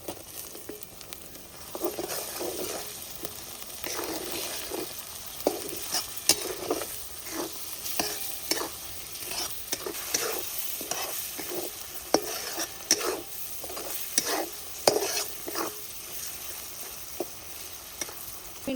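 Chopped tomatoes and kasuri methi fry and get stirred in a pan for dhaba-style palak paneer, with a low steady sizzle under repeated scraping strokes of a spoon, close and without talk.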